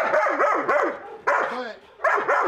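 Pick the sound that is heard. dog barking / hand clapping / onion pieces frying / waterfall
dog barking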